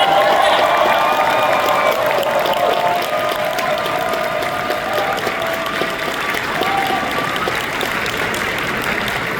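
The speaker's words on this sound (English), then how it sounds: "one more really rousing applause for Nagata-sachi" Sustained, loud applause and cheering from a large audience at the closing ceremony of the Anime North 2024 convention, a steady dense roar of clapping with whoops and raised voices throughout.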